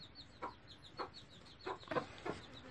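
Hens on a rooster farm housing Aseel birds cluck softly in short separate calls, several spaced bursts over a faint background, fairly quiet and close.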